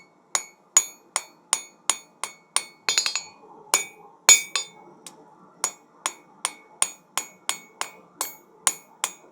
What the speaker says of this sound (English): I'm going to pull the piece back on the anvil, and I'm going to forge it right.